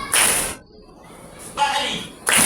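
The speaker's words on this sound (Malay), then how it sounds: "Tepuk tangan sekali" Children in a Quran lesson clap on cue in a classroom, producing short sharp bursts of group clapping separated by brief quieter gaps with faint voices.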